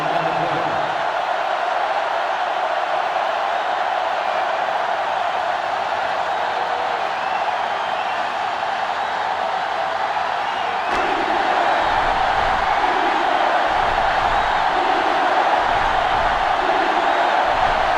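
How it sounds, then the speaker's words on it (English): Stadium crowd in NCAA Football 2005, Michigan vs. Ohio State, roaring in a steady, dense wall of noise that swells louder partway through, with thuddy low rumbles underneath. "This crowd is almost shaking the stadium."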